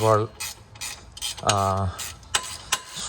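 Ratchet wrench working on the sway bar links of a 2019 Toyota 4Runner, two quick bursts of rapid clicking followed by metallic taps and clanks, close and loud, no talking.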